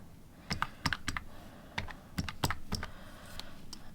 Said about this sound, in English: I'll make sure I hit the right keys here.